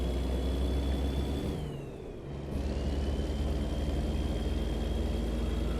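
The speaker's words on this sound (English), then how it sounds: "I love the way this truck sounds." Diesel truck engine in American Truck Simulator, driving along the California coastline, holding a steady, close, loud drone with a brief dip in the middle before settling back to an even hum, with no talk over it.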